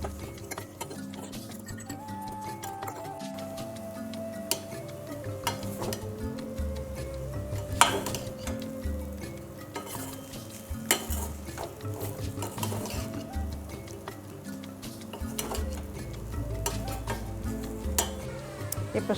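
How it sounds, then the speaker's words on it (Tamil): Chicken being sautéed with ground masala paste in a pan, a steady low sizzle with scraping stir strokes and occasional clinks of a utensil against the pan, close by with music playing throughout. "கொரன்னு அரைச்சி வச்ச கறியை போட்டேங்க. போட்டு 2 வதக்கிட்டு"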